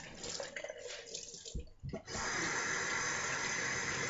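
Cold water running from a tap into a sink during a shave rinse, a steady close gush that starts after a few seconds of splashing and continues loudly.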